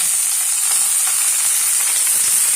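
Washed moringa leaves with a green chilli frying in a hot pan, a loud, steady sizzle and hiss running unbroken from start to finish with no one talking.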